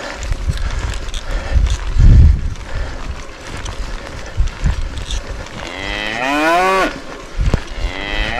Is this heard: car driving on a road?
no